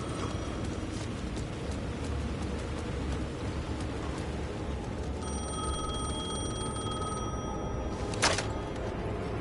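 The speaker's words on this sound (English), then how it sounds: "The phone was ringing again." A telephone rings in the game Alan Wake 2, its electronic tone entering partway through over a constant rain-like hiss, with a sharp click near the end.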